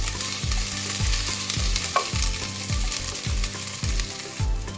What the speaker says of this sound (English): Let's saute it well so that the raw flavor of this goes off